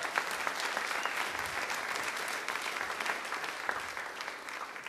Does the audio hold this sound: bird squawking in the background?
no